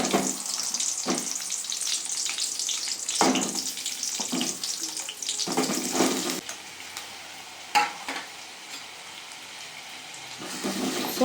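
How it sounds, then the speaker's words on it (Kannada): Whole spices and aromatics fry in hot oil over a high flame for a mung bean masala curry, a steady broadband sizzle broken by repeated scraping stirs of a spatula, with no voices. "ಸೊ ಹೈ ಫ್ಲೇಮಲ್ಲೇ ನೀಟಿಗೆಲ್ಲ ಫ್ರೈ ಮಾಡ್ಕೊಳ್ಳಿ"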